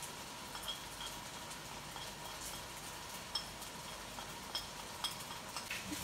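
Spices and Maggi seasoning fry in a pot for biryani with a faint, steady sizzle, broken by a few soft clinks of a spoon stirring against the metal.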